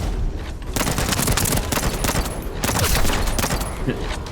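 Sustained automatic gunfire in the shooter video game The First Descendant, dense rapid bursts with short gaps, loud and continuous throughout.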